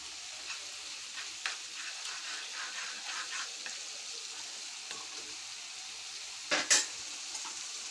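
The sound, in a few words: chili spices frying in oil for fish curry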